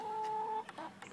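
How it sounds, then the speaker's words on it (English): Young backyard hens, not yet laying, give a few short clucks and calls after a steady tonal hum fades, close and moderately loud with no talking. "Some nosy chickens."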